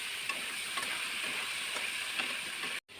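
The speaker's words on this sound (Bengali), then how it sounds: "আলুকে ভালোভাবে কষিয়ে নিব" Potato and cauliflower sauté in oil with cumin seeds, a steady, close hiss and sizzle with faint stirring taps, cutting out briefly near the end.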